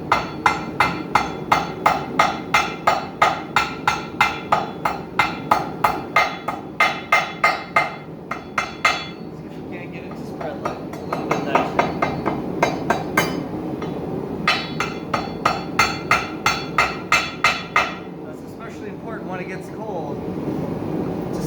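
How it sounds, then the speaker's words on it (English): Hot steel being forged into a wall hook, struck with the edge of a hammer to draw out its sides: a steady run of sharp, ringing blows close by, pausing briefly midway, then resuming in quick bursts. "Switching hammers, we're going to try and use the edge of it to kind of draw these sides out a little bit more."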